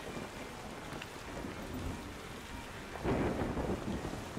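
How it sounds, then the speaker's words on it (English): A thunderstorm with rain in the video game Yonder: The Cloud Catcher Chronicles, steady rainfall hiss under a low rumble, with a louder roll of thunder swelling near the end; no talking. "Of course, it has to be a storm,"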